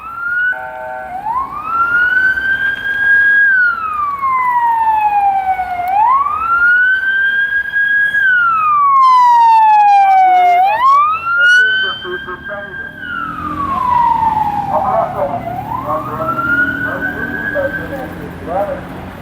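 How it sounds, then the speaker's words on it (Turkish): A loud wailing ambulance siren sweeps up and down in long cycles, close by and then shifting as the ambulance moves past, with traffic noise underneath. "ambulans geçtiği için e, bir an duraksadım."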